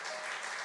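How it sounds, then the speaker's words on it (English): A crowd at a live telethon broadcast claps in a brief, steady patter of applause, fairly faint and heard alone. "give yourselves a clap"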